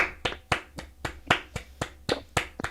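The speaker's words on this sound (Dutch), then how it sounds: "Applaus voor u. Even een applausje." Hand claps from a single person during a Roblox horror game stream, about a dozen brisk claps in a steady rhythm, close and fairly quiet, with no talking.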